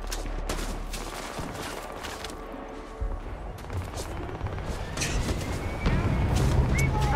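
A video game firefight with an enemy character shooting over cover: dense, overlapping bursts of gunfire and impacts keep building in intensity, with crashes and mechanical clatter mixed into a busy, loud battle.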